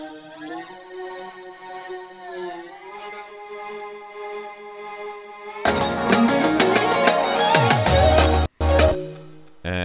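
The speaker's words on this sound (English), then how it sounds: "I just took the vocals from the original track and dropped them into sampler and then found like one syllable and told it to loop back and forth" A single vocal syllable taken from an original track loops back and forth in a sampler with a crossfade, a soft wavering tone, before a loud full electronic remix section bursts in with a brief dropout near the end.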